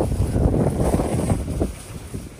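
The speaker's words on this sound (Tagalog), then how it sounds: "So, sobrang lakas ng hangin." Strong, cold wind gusts in Canada, buffeting the microphone as a loud, continuous roar with rising and falling surges and no voices.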